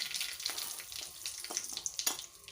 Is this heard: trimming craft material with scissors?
no